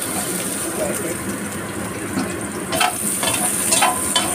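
Garlic fries in oil in a pan with a steady, close, broadband sizzle and occasional stirring clatter, with no talk.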